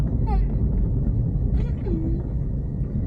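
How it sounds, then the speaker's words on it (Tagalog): Steady low rumble of road traffic fills the scene, with vehicles droning nearby and faint voices mixed underneath. "Ang traffic."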